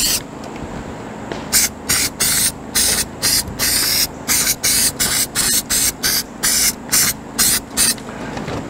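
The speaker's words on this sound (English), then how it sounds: "we're gonna spray both surfaces of this with this contact cleaner." Several short bursts of aerosol contact cleaner sprayed from a can onto rubber surfaces while patching an RV rubber roof, steady hissing pulses repeating in a quick rhythm, close and loud with no talk.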